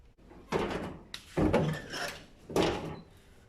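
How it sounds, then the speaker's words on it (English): Door of a retro classic Ford Escort panel van under restoration being pushed shut several times, giving three solid thuds and rattles close by with short pauses between. "So I'm going to close the door now and just see how it fits."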